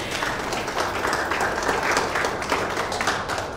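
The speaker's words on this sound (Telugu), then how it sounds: "Claps for him." Audience applause for a project director at a real estate presentation, steady sustained clapping from a crowd filling the room for several seconds.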